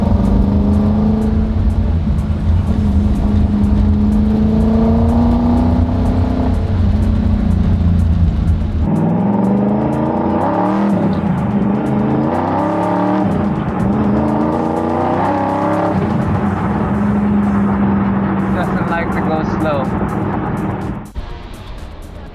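A car engine runs loud and steady through a test drive, with changing harmonic pitch as it accelerates and shifts, then eases off near the end.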